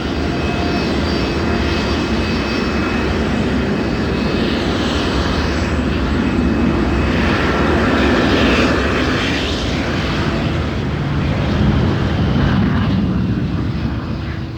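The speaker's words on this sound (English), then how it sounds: "a plane is either taking off or landing every 30 seconds" A jet airliner taking off or landing at Heathrow airport roars loud and steady throughout, a broad sustained engine rumble that swells slightly near the end.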